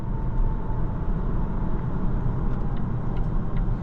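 Steady, moderately loud engine and road noise inside a 2026 Volvo XC40 B5 Ultra Black Edition as it accelerates, a continuous low rumble with tire hum heard from the driver's seat and no talking.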